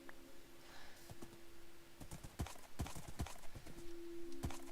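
A horse's hooves clip-clopping in Minecraft, a series of sharp, irregular taps over a faint steady tone, quiet and alone.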